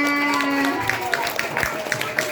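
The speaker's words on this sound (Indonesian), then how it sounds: "Masya Allah, tepuk tangannya mana?" Children at a Maulid Nabi gathering break into light, scattered applause of quick uneven claps right after a brief spoken line.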